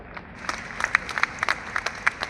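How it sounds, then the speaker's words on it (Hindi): Scattered applause from an audience at a public event, a handful of distinct sharp claps building into a loose, uneven patter, fairly close and not very dense. "जोरदार ताली बजा दूं"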